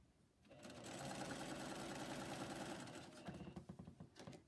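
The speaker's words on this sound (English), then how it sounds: "And then just stitch right on that edge." A sewing machine stitches along the edge of an Islander shirt in one steady run of fast rhythmic whirring and needle chatter, close and continuous, slowing into uneven stuttering stitches near the end.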